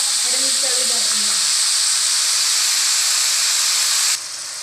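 Garlic and ginger paste sizzling loudly in hot oil left over from frying chicken for a karahi, with green chillies, a steady close hiss that drops slightly near the end while a voice talks briefly at the start.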